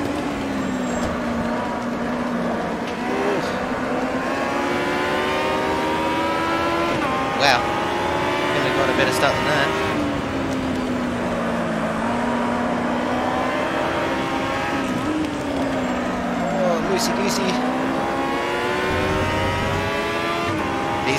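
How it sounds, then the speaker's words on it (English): Aussie Racing Cars in the sim racing game Automobilista at Winton, a steady droning engine note rising and dipping with gear changes, a pack of cars racing close together, with occasional sharp clicks. "Race one in the Aussie racing cars."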